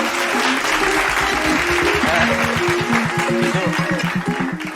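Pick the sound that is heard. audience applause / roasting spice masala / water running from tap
audience applause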